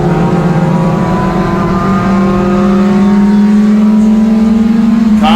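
Race cars at Irwindale Speedway during a NASCAR Division III enduro, one loud engine droning steadily and climbing slowly in pitch as it passes close, with a continuous roar throughout.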